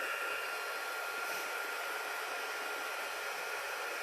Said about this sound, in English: I'm going to use my heat tool, and that's probably going to be loud for a couple of minutes.